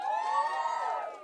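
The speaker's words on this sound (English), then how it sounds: "all the single women give me a cheer" Single women in a stand-up comedy audience cheering: a short, high-pitched whooping cheer from the crowd, loud and sustained for about a second before fading.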